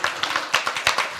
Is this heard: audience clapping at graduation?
yes